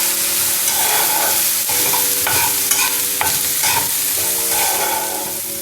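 Potato curry with turmeric is stirred in a hot pan: a steady close sizzle broken by repeated scraping strokes of the spoon.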